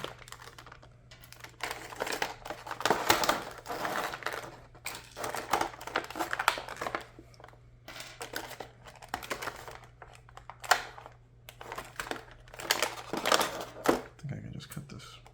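Plastic packaging crinkling and rustling in bursts as accessories are pulled from an action figure box, close and fairly quiet, with a person talking in between.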